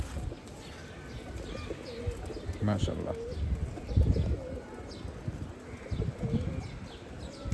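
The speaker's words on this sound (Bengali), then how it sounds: "ও খুব হাইপার একটা কবুতর" Pigeons in a Bangladeshi loft, with soft repeated cooing and a few chirps close by, under low talk and a brief flutter of wings.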